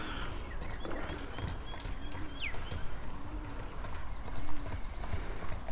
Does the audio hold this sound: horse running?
yes